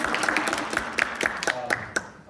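Scattered, thin applause from a small audience at a veteran integration program event, individual claps distinct and irregular rather than a full roar, with a voice faintly present in the background.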